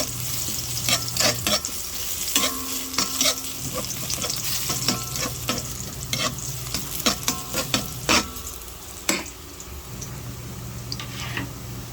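Garlic sautéing in oil in a wok for chicken adobo, with a continuous bright sizzle and frequent scraping, clattering stirs of the spatula against the pan.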